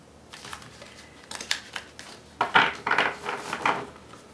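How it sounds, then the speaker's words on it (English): Tarot cards being shuffled up close in a few quick, papery bursts that grow louder toward the end, with no talking. "I know that's a little bit loud when I'm shuffling"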